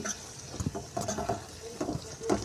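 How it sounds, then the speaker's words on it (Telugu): Curry being stirred in a pan after a little salt goes in, with soft scraping and light sizzling strokes in short bursts, close by, no talk. "లైట్ ఉప్పు వేసి కొద్దిగా కలుపుతే అయిపోతుంది"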